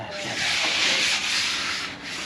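Sanding on a boat hull gives a continuous, close, hissing scrape with gentle swells in intensity as the strokes move back and forth, and no voices.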